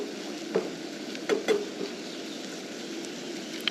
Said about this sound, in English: Okay, the egg is starting to cook nicely.